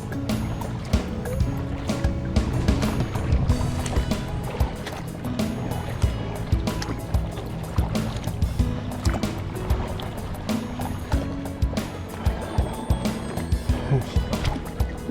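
Kayak paddling on the Fort George River near the shore: rhythmic paddle strokes and splashes with water dripping and gurgling against the hull, fairly close, under steady light wind noise, with no talk.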